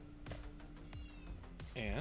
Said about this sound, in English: he's down below my chair just meowing up a storm.